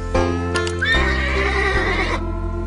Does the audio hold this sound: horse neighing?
yes